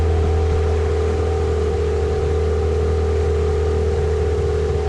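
A boat powered by a Mikatsu 9.8 outboard motor runs fast, its engine holding a loud, constant high-revving drone with a steady whine and no break throughout.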